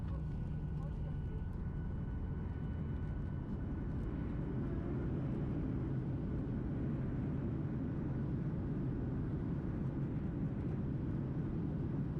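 An airliner cabin rumbles with a steady, broadband engine and air roar as the plane descends toward Las Vegas. The noise is constant and fairly loud throughout and continues unbroken from start to finish.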